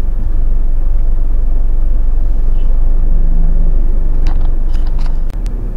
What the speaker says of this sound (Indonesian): Banyak truk-truk besar seperti ini ya teman-teman.